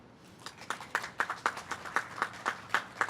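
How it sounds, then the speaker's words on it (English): Audience clapping heard faintly, as a run of about a dozen evenly spaced, crisp claps in a steady rhythm with little background noise. "And that, of course, deserves a round of applause"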